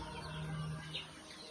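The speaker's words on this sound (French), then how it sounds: "Je vais vous montrer les poulets qui sont présents." Faint clucking and chirping of chickens in an enclosed space over a steady background hum, quiet and somewhat distant.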